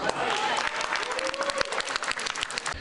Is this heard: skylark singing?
no